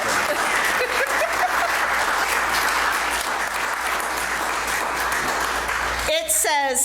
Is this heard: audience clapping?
yes